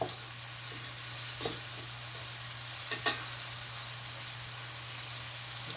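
Flying fish sizzling in a frying pan, a steady close hiss of hot oil with a couple of brief pops and stirring clicks, no voices.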